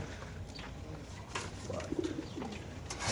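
Pigeons at a pigeon market, among them Budapest tiger pigeons, give a few soft, rolling coos against a busy, noisy background.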